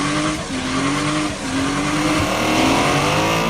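A car doing a burnout with its tyres spinning, the engine roaring loud and steady while tyre squeal rises and falls across the whole stretch, close by.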